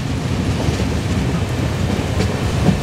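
Vistadome glass-coach train rolling through a tea garden in the Dooars, a steady low rumble of wheels and carriage noise with faint rhythmic clatter, continuous and fairly close, no talking.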